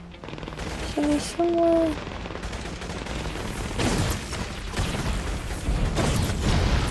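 Gunfire in inFamous: First Light rattles on as a dense, steady barrage mixed with in-game action and a speaking voice over the top.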